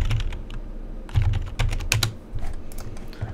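Fingers type on a computer keyboard in quick, uneven bursts of close, soft clicks and taps, heard alone at low volume with no talking.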